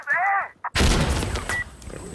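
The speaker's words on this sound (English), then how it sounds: "I'm throwing a frag!" A frag grenade detonates in the Insurgency Sandstorm video game, a loud booming blast with a rumbling tail, right after a brief shouted voice.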